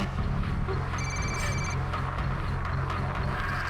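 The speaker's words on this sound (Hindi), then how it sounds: "मुझे किसी ने ये वीडियो भेजा और फिर इसी नंबर से फ़ोन कॉल भी आया।" A telephone rings once with a short electronic trill for an incoming call, heard under a dense, loud background of dramatic music and ambience.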